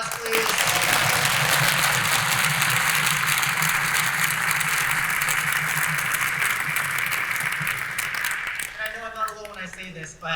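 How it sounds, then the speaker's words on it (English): An audience at a high school band concert claps in a sustained, dense burst of applause that holds loud for several seconds before thinning out, followed by a person beginning to speak. "Let's give them all a round of applause,"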